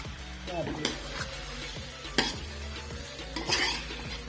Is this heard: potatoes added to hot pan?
yes